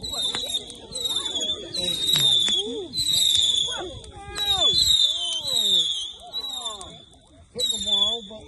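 Fireworks bursting on Bonfire Night in London, a steady string of crackling bangs and high screeching whistles over about eight seconds, with people talking and exclaiming close by throughout.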